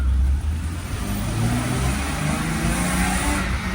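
An old 1980s–90s German car engine revs hard and close, a loud, continuous mid-pitched roar that holds steady throughout with small surges in pitch.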